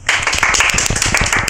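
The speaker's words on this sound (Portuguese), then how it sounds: "Uma salva de palmas" A studio audience claps steadily at an awards show for the year's best films, dense hand claps running throughout the short burst at full, close level, with a faint voice underneath.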